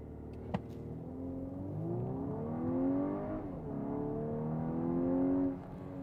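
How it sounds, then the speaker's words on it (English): A 2024 Volkswagen Atlas driving in sport mode, heard from inside as a steady engine hum that rises through gears with smooth revving sweeps and a brief dip between shifts. "Today I'm driving the Volkswagen Atlas, the 2024 model."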